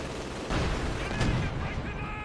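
Artillery and tank fire from SU-85s and a Pak-40 in a World War II strategy game, heard as a burst of booming shots and a sharp crack over a continuous battle din.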